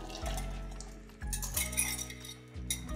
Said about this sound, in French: Et je remets le tout dans la casserole.